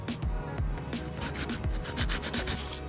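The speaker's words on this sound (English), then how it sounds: "sanding, a lot of sanding" Rhythmic back-and-forth sanding of a puzzle for a hexagonal or octagonal barrel mod, steady loud rasping strokes repeating about twice per second, close and continuous.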